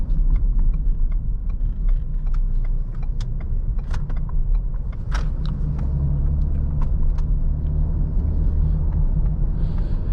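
Cabin sound of a 2022 Ford Explorer SUV with a 10-speed transmission driving along: a steady low road rumble and engine hum, punctuated by scattered small clicks and rattles from inside the vehicle, with no talking.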